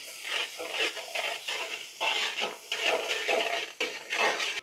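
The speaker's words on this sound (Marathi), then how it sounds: "मसाले व्यवस्थित मिक्स करून घेऊ।" Spices with ginger garlic paste, salt, turmeric, Kashmiri chilli powder, coriander powder and garam masala being stirred in a hot pan, a steady close sizzle broken by repeated scraping strokes, with no talking.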